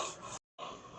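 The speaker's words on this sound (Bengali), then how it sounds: "প্রথমেই ভেজে রাখা তিসিগুলো পাটাতে দিয়ে বেটে নিলাম।" Roasted flaxseeds being ground on a flat grinding stone, a close, coarse rubbing rasp in two short strokes split by a brief pause, with no voices.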